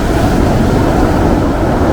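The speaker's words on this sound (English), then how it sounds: "So gorgeous, big waves." Big ocean waves break on the coast at Hartland in North Devon, a loud steady wash of surf filling the whole stretch without pause.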